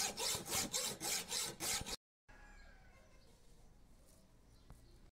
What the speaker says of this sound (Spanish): luego cortando con una hoja de sierra